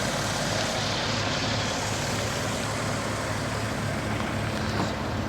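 A Mitsubishi FTO rolls into a car meet in Stirling in February, a steady, close engine rumble and road noise that holds at a constant level throughout.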